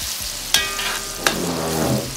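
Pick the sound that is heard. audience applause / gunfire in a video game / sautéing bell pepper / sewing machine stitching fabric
sautéing bell pepper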